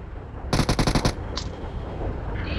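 A short automatic burst of gunfire in PUBG Mobile on the Erangel map, about six rapid shots over half a second, loud and close, followed by a brief sharp blip and quieter game ambience.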